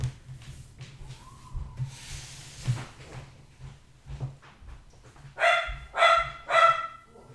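A dog barks indoors three times in quick succession near the end, loud and close, after a stretch of quiet room noise and faint rustling.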